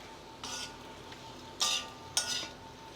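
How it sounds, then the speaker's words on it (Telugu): Sesame seeds roast in ghee in a pan for sesame-date laddu, giving a faint, steady sizzle broken by three scraping stirs, the last two louder and sharper. "ఇట్లా మెత్తగా అయ్యే వరకు కొంచెం వేయించుతాను ఇదిగో నెయ్యి వేసుకున్నాను"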